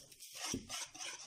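Cake batter ingredients for traditional khobz el bey, including vanilla, baking powder, lemon oil and fried ground almonds, stirred in a bowl: a short burst of soft scraping and clinking, close and fairly quiet.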